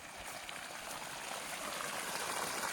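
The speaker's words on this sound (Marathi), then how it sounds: "तर हे बघा मित्रांनो चालू झालेली आहे मोटर," Water gushing steadily from an electric motor pump, a close, continuous rushing and splashing stream that holds level throughout with no talk.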